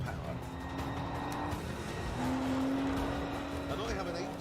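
Cars racing with a front-wheel-drive Golf being overtaken: a steady engine drone with a rising tonal whine as one car closes in, held under continuous background noise.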